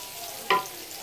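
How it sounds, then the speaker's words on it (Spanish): Carrots are stir-fried in a pan for chow mein. A single brief burst of sizzling and stirring rises sharply midway, then fades back into a quiet kitchen background. "Está sofriendo ahorita la zanahoria."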